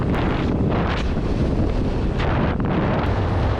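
Strong headwind roaring across the microphone on a Honda Supercub motorcycle ride, a loud, constant, dense rumble and buffeting with no break and no voices.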